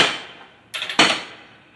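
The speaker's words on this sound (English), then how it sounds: "I was trying to get this between here and tap it with the hammer" A hammer knocks on a car part while an engine and transmission are being removed from a 2007 Grand Prix. Two sharp metallic taps sound close together, with a decaying clatter before them.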